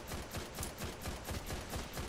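Rapid video-game gunfire from a 17-round weapon, a steady stream of evenly spaced shots at a fast clip, loud and continuous for about two seconds with no talking.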